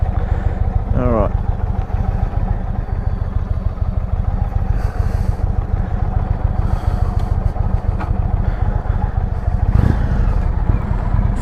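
A 2019 Indian Springfield motorcycle carrying a pillion passenger runs on a test ride, its close, steady engine throb and clatter continuous throughout without clear revving.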